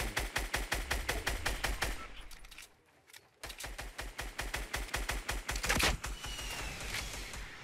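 Rapid bursts of automatic gunfire crack in a Fortnite Battle Royale duo match, evenly spaced shots in two long volleys separated by a short quiet gap, fairly close and moderately loud.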